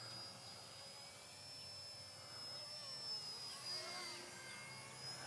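RC Era UH-1 Huey beginner RC helicopter flying in a park, a faint, continuous high electric whine with a steady rotor hum, slightly swelling as it moves.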